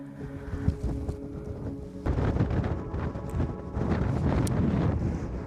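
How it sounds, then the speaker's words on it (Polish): Strong wind buffets the microphone in the mountains of Fuerteventura, a continuous rough roar that swells louder partway through and again near the end, close and unbroken. "Wieje tu bardzo mocno"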